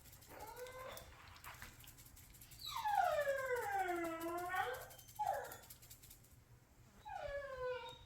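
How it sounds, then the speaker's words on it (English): Several hungry dogs howl and whine in drawn-out, sliding cries beside a smoker where ribs are cooking, a long chorus in the middle with shorter bursts before and after, moderately loud over a steady low hum. "Dang dogs. They are hungry."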